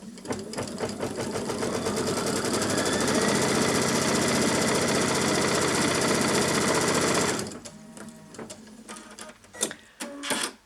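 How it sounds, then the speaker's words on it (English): A sewing machine stitching down a fabric strip, running loud and steady with a fast, even mechanical chatter for several seconds before stopping, followed by a few softer clunks and handling noises. "We stitch that down. It will stitch just inside that line that held the strip down."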